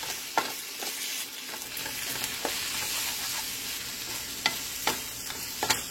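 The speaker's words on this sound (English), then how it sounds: "So we're going to go ahead and scramble this." A tortilla with bacon is scrambled in a hot pan, giving a steady sizzle with scattered scraping and stirring taps from a utensil, close and moderate, with no talk.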